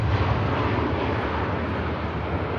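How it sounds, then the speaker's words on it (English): An Airbus A320 arriving from Oslo at Manchester Airport gives a loud, steady broadband jet roar with deep rumble, continuous and unbroken for the whole stretch. "Aircraft arriving in from Oslo."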